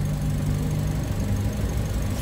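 A Toyota 1NR-FE engine idles close up with a steady low rumble and a faint ticking valve noise running throughout, with no talking.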